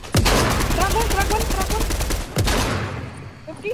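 Gunfire from a video game shooter rattles in a sustained rapid burst, with another sharp volley near the end while players talk over it.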